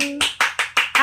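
Hand claps at a family birthday celebration, about five quick claps in steady rhythm, close and moderately loud, with a voice speaking at the start.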